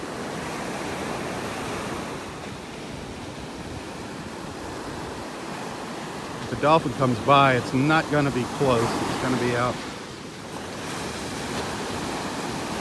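Steady ocean surf breaking on a beach in North Naples, Florida, a constant broad wash throughout, with a person talking over it for a few seconds midway.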